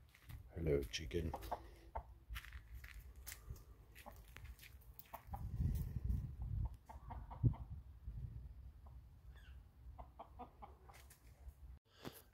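A hen clucks in soft, scattered bursts close by, with a person talking quietly at intervals between the calls.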